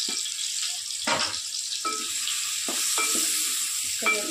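Turnip pieces stirred in a pan with turmeric, red chili and salt, quiet sizzling under a series of soft spoon scrapes and knocks at irregular intervals.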